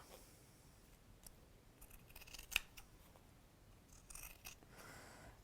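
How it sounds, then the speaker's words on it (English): Scissors trim the seam allowance on a fabric garment with a few quiet, crisp snips, including one sharper close cut, in an otherwise hushed room. "we're going to trim this down trim the seam allowance"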